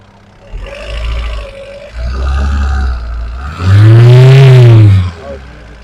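A Hyundai Santro petrol car converted to run on LPG, with its air conditioning on, idles with a steady low hum, then revs up loud and close once before settling back.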